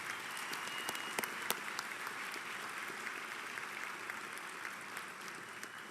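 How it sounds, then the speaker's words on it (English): An audience at a spring commencement claps for the choir, with soft, distant, continuous applause and a few sharper individual claps standing out near the start. "How about another round of applause for the choir?"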